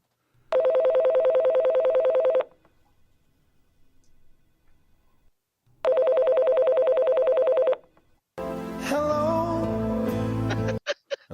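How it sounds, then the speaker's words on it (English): Two long electronic dial tones sound with a pause between them, followed by a burst of a busier, shifting tone sequence. "let's give the White House a call here, and we can try to get Biden on the phone here."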